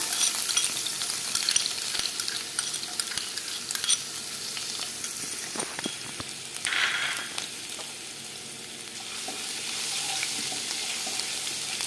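Chopped garlic and ginger frying in a couple of teaspoons of hot oil for chicken kondattam, a steady close sizzle with occasional stirring scrapes and a brief burst of louder spitting midway.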